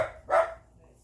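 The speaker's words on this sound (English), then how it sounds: "the dogs are starting to romp" Dogs bark during a romp inside a home kitchen, two quick faint barks in close succession, then quiet.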